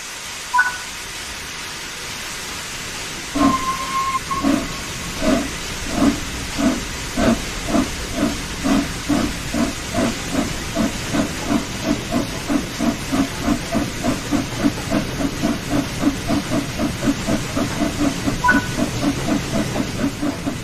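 In the Train Sim World 4 game, the Flying Scotsman steam locomotive hisses and then chuffs in a steady rhythmic beat that quickens over about twenty seconds, with a brief whistle-like tone near the start.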